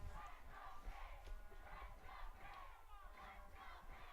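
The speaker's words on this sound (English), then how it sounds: "Crowd trying to rile up the Spartans here." A soccer crowd at a men's college match chants in rhythmic waves to rally the home side, a distant, muffled surge of massed voices rising and falling in repeated pulses.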